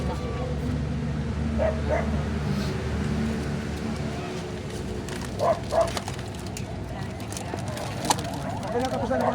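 Several dogs bark in short bursts amid a busy outdoor scene, with yips audible near the middle and end, over a steady low rumble of background noise and people talking.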